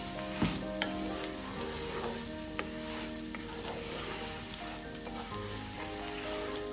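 Chopped onions and leek toast with rice in a pan of fat for a pumpkin and sausage risotto, giving a soft, steady sizzle with scattered small pops and faint stirring scrapes.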